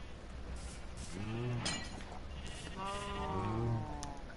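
Two drawn-out bleats from Minecraft sheep, wavering and nasal, sounding close with a short gap between them over a faint steady game ambience.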